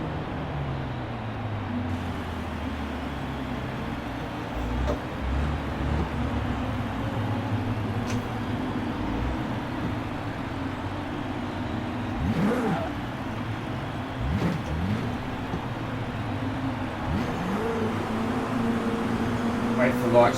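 A McLaren 600LT idles on the track strip in Forza Horizon 4, a steady low engine drone with occasional swelling blips of revs throughout, and no one speaking over it.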